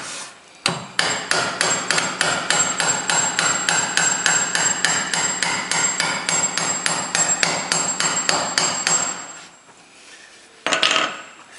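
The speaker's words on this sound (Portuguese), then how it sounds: "Encostando o prego na madeira, conferindo, vamos bater o prego." A steady run of sharp hammer blows drives a nail into wood while a tire planter with a stake is being built, roughly three strikes a second and close, stopping briefly before a last couple of hits.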